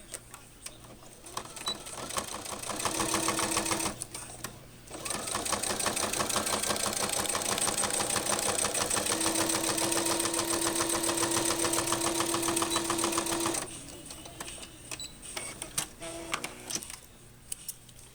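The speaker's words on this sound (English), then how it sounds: "So we want to go ahead and sew this on just like we did the other side." Sewing machine stitching a coin purse made from a ramen noodle packet, running in loud, steady mechanical bursts: a short run, a brief pause, then a long continuous run of about eight seconds before stopping, heard close with no speech.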